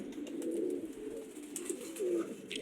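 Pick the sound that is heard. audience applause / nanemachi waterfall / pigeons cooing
pigeons cooing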